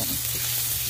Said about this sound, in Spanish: Vamos a echar la cebolla. Y la vamos a ir meneando.